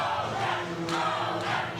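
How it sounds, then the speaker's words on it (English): A wrestling crowd at an MFPW event roars and cheers steadily for the 252-pound Plunket the Ogre, a dense, continuous wall of voices with a couple of brief surges, close and loud. "look at the crowd going crazy for Plunket"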